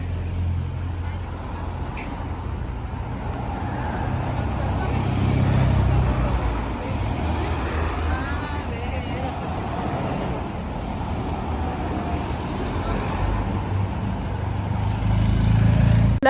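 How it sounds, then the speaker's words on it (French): Cars and police vehicles on a Paris street rumble past with steady low traffic noise, engines swelling nearer at moments while people talk faintly nearby. "il y a plein de voitures de police et il y a des voitures qui arrivent"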